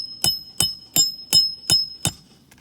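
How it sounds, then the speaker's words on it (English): Six sharp hammer blows land at an even, steady pace, close and crisp, as nails are driven into roof shingles that shed granules with each strike; a faint high ringing tone lingers through the series. "we're gonna hammer that one home"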